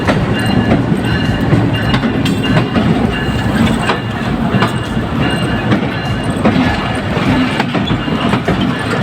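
A train hauled by a GU20 locomotive rolls through a railway station, with a dense, continuous roar of wheels and rhythmic clickety-clack from wagon joints over the full length, loud and close.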